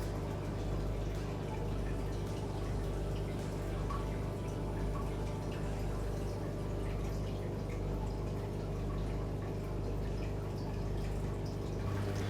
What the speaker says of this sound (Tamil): நான் கொஞ்சம் தண்ணி ஊற்றி நல்லா மிக்ஸ் பண்ணிக்க போகிறேன்.